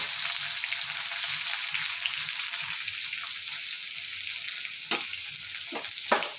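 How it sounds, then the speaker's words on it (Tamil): Steady, loud sizzling of chopped onions frying in oil, with a few scraping stirs near the end. "நறுக்கி வச்ச வெங்காயத்தை போட்டுக்கிறேன்"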